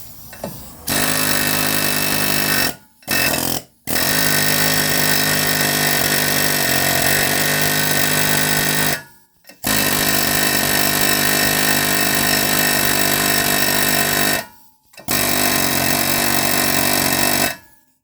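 Air-powered tool driven by a compressor works a stuck rear brake rotor off a 2018 Ford EcoSport, running in loud sustained bursts of several seconds each, separated by short pauses, the last bursts sounding slightly weaker.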